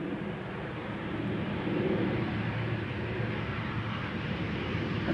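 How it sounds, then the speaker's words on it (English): A KLM Embraer 175 jet on Schiphol's Polderbaan runway, returning from Düsseldorf, gives a steady, broad, distant roar that swells slightly and holds at a constant level throughout. "Embraer 175 returning from Düsseldorf"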